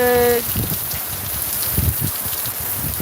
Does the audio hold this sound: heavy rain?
yes